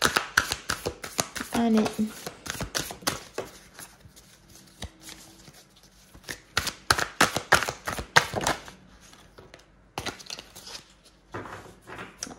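Dixit cards shuffled by hand during an April 2022 Gemini card reading, heard as close, irregular bursts of papery clattering and flicking, with a brief spoken word among them.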